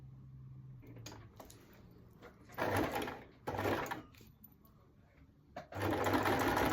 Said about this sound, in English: I have started sewing